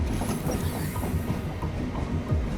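A train in the Minecraft video game rumbles past with rhythmic clickety-clack of wheels over the rails, loud and continuous throughout.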